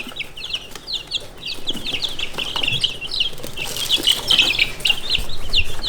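Frightened young chicken chicks peep in quick, high, repeated chirps, with soft rustling and occasional flapping nearby, growing busier and louder toward the end.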